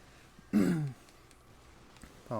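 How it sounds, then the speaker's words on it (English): A single sharp throat clear with a rough, voiced cough-like burst from someone with a tickly cough, close and fairly loud against a quiet room, followed by a brief second rasp at the end. "This tickle cough's got me."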